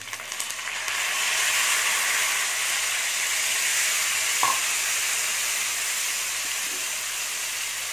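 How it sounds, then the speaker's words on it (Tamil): Strained tamarind water goes into a hot pan of tempering with curry leaves for basmati pulisadham, setting off a loud, steady sizzle and hiss that holds for several seconds, with a brief clink partway through. "இதில் கரைச்சி வடிகட்டி வச்சிருக்கிற புளியை ஊற்றிக்கலாம்."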